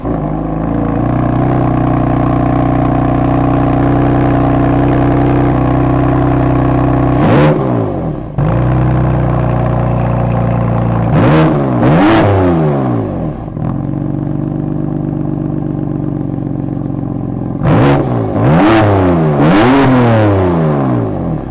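A BMW M2 with an S55 engine of about 425 horsepower idles with a steady, deep drone, broken by several sharp revs that rise and fall quickly, some in quick double blips, loud and close.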